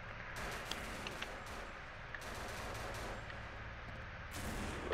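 Sustained gunfire from the zombie video game No More Room in Hell, played on an unlimited-ammo Chinatown server: dense, continuous rattling bursts with a few sharper cracks, steady and loud throughout without talk.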